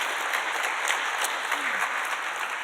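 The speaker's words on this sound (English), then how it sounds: "let's give them a round of applause" An audience at an opening keynote breaks into steady, dense applause that holds evenly for a few seconds, with a faint voice briefly audible beneath it.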